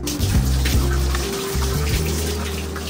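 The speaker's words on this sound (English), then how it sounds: "now I'm gonna rinse it off with cold water" Cold tap water runs steadily as a vintage hat is rinsed beneath it, a close, continuous splashing gush with slight shifts as the stream hits the fabric.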